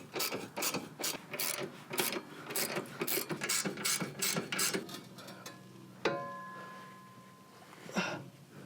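A hand ratchet works on the trailer hitch bolts of a Toyota Tacoma, making a quick run of close, rhythmic clicking strokes. Scraping and metallic clinks follow near the end as the hitch comes loose.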